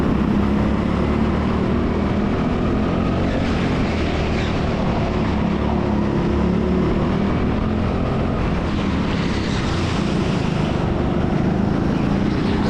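Go-kart engines roar continuously on an indoor TeamSport Sheffield track, a dense, steady mechanical drone with rising and falling whine as karts pass, loud and unbroken throughout with no voices.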